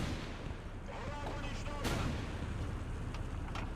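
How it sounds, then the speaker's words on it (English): A tank cannon in War Thunder fires a solid shot, one sharp booming report near the middle of the clip, set against steady battlefield rumble. "And for some reason he's firing solid shot."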